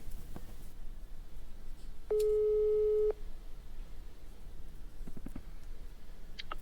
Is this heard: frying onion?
no